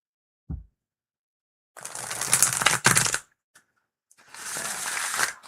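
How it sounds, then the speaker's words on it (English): Tarot and oracle cards are shuffled close up in two bursts of rapid riffling flutter, separated by a brief sharp tap and a few small clicks, with no voices. "These cards shuffle like butter."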